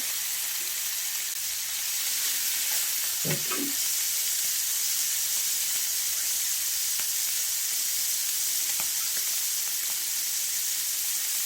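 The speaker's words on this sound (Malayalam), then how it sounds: "എണ്ണ ഒഴിച്ച് കൊടുത്ത് മീൻ ഓരോന്നായിട്ട് പറക്കി വെച്ച് കൊടുക്കുന്നുണ്ടേ" Fish pieces fry in oil in a pan, giving a steady, soft hiss of sizzling throughout, with one brief clatter of handling near the start.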